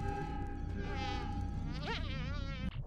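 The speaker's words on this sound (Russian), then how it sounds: "Так, муха где-то" Insect-like fly buzzing in the video game Aliens versus Predator 2, a steady close whine with wavering pitch sweeps that cuts off abruptly near the end, heard alone without speech.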